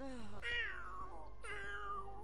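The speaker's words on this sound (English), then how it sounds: "Fucking shit bag that cat is." A cat in The Sims 4 gives two drawn-out, whiny meows in a row, each falling in pitch, clear and close over a steady low game background hum.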